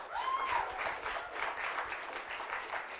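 Audience applause at a live comedy show in Hollywood, steady clapping from a crowd that stays fairly even for a few seconds, with a brief whistle near the start.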